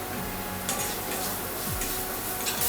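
Chopped onions frying in a pan for bread upma, a soft steady sizzle running throughout with faint scraping and clinks of a spatula stirring against the pan, no voices.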